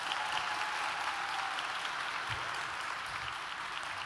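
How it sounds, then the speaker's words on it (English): Sustained applause from a college convocation crowd, steady clapping that holds at an even level for several seconds without voices on top. "So another round of applause"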